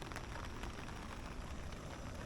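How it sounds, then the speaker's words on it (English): Rain falls outdoors at a carp fishing lake, a steady, soft, even hiss with no other sounds or voices. "As you can probably tell from the sound, it's raining."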